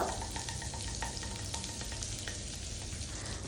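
A piece of butter melting in a hot pan for paneer butter masala gives off a steady, close sizzle with light crackling throughout, no voices over it.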